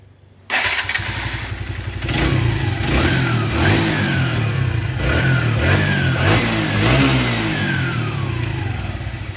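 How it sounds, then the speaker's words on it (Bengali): A rebuilt motorcycle engine, freshly fitted with new rings and pistons, starts up close by and runs steadily, with several rising revs over its loud, continuous idle and no talking. "তো এখন আপনারা ইঞ্জিনের সাউন্ড শুনবেন।"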